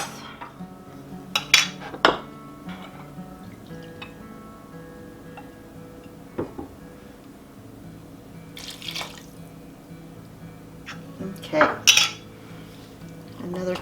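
A spoon stirs a stuffed pepper casserole mixture with beef broth in a pan, giving scattered close metallic clinks and scrapes against the cookware over a low background hum.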